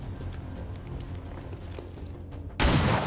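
Gunfire in XCOM 2: War of the Chosen, a steady low game rumble with faint clicks, then a single loud, sharp blast near the end.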